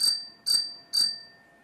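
A bicycle bell rings three times in a steady, evenly spaced pattern, each bright ting fading before the next, clear and close with no talk.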